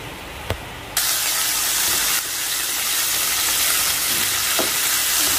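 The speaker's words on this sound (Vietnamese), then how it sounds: "nên là phải rán cả hai loại," Loud, steady sizzling of lean and fatty pork frying in a hot pan, a continuous crackling hiss that starts abruptly after a brief quiet moment.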